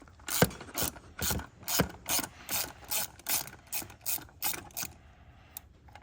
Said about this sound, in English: I got a little reducer on there down to 3/8 just because I don't need that big of a ratchet on it